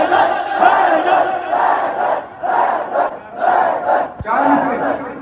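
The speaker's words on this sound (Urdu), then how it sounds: "جتنے شور کے ساتھ آپ نے پڑھا ہے کہ حیدر کے نعرے لگائے" A large crowd at a religious majlis gathering in Burewala chants the slogan "Haidar" in loud, repeated rhythmic bursts, voices swelling together in waves with short gaps between chants.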